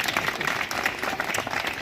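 At a school gathering, attendees clap for a girl who now comes to school regularly, a brief, dense burst of applause from a crowd, fairly close and steady throughout.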